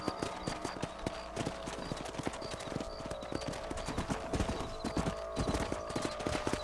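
Horse hooves clip-clop in a steady, quick rhythm while riding across a ranch in the western game Red Dead Redemption, close and continuous with a brief whinny amid ambient outdoor sounds.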